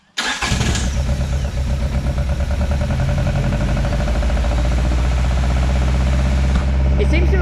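Toyota 4AGE engine cranks and catches, then runs at a steady, loud idle with a regular pulsing beat, close by and alone.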